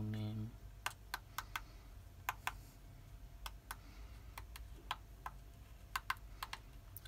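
Someone types on the small built-in keyboard of a mutantC Raspberry Pi handheld, giving sharp, sparse key clicks in an irregular rhythm over faint room noise, preceded by a brief tone.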